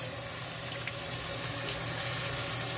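Fresh fruits and vegetables for a parrot are rinsed under a running tap, a steady close rush of water splashing into a sink with no break and no voices.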